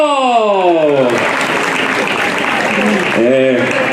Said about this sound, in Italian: voglio un applauso